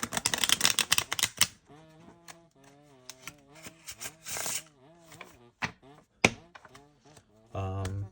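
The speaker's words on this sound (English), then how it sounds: "Shuffle the cards." A close, rapid riffle of cards being shuffled, followed by lighter tapping and handling sounds while a voice hums or speaks softly in between.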